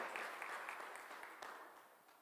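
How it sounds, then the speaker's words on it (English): A church congregation applauding during a service, a short burst of fairly faint, even clapping that tapers off. "Round of applause here."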